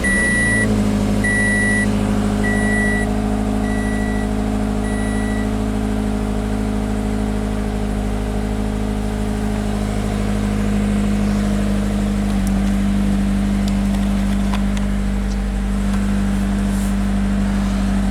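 A 2014 Scion FR-S with a six-speed manual gearbox idles with a steady, loud, close engine hum, while a repeating electronic warning chime beeps over it for the first few seconds.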